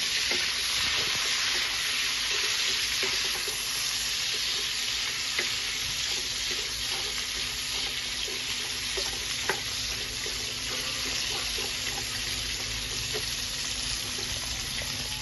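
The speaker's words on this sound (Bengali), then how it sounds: "একটু ভাজা ভাজা হলেই একটা একটা করে সবজি অ্যাড করবো।" Mixed vegetables frying in a pan for a paneer sabji sizzle steadily and evenly for the whole stretch, with faint stirring clicks scattered through the hiss.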